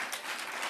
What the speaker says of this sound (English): can we give the guys one final round of applause